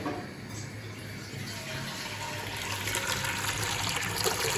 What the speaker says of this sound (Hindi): लेंगे प्रेशर कुकर, प्रेशर कुकर में जो है ना पानी हम यहाँ तक फिल करेंगे जहाँ तक निशान लगा हुआ है